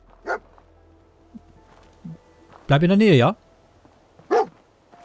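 A dog barks and yips in the video game Fallout 4, with short sharp calls scattered between longer stretches of someone talking, plus one louder drawn-out whining bark near the middle.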